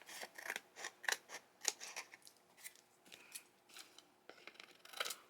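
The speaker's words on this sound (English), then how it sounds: "Then I will just cut all of the excess ones." Scissors snipping excess paper while making mixed media tags, a series of crisp close cuts in an uneven rhythm, quiet and alone with no speech.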